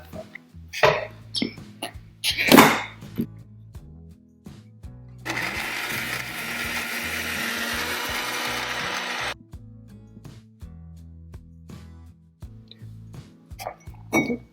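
A mixie grinds vegetable juice with almond milk, a loud whirring run of about four seconds in the middle, framed by clattering jar and lid handling before and after.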